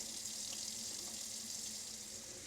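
Sanitizing solution with suds runs from an RV faucet, a steady soft hiss of flowing water that continues unbroken and fairly faint, with no voices.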